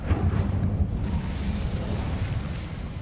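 A fire spell cast in the Hogwarts Legacy video game, heard as a sustained, loud roaring whoosh of flame that fills the whole moment, deep and rumbling, with no voices over it.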